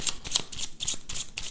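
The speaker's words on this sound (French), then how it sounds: "j'ai oublié de tirer mes petites cartes ici" Tarot cards are shuffled in a quick series of about six crisp riffling bursts, close and fairly soft, with no voices.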